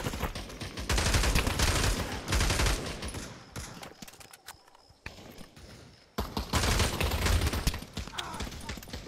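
Rapid bursts of gunfire in the VR shooter Pavlov VR during a team deathmatch, loud and dense for several seconds, dropping briefly before another heavy volley resumes near the end.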